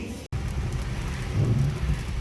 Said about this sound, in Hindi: कितनी तेज़ बारिश शुरू हुई